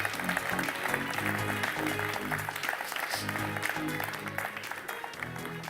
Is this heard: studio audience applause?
yes